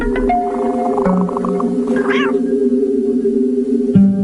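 A cat meows in a drawn-out, wavering call over a steady humming background, loud and close, with a brief rising yowl in the middle and a soft thump near the end.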